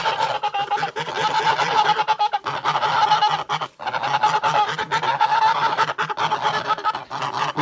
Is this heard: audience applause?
no